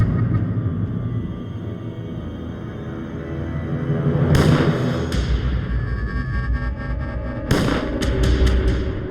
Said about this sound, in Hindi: गोलियां चलने की आवाज।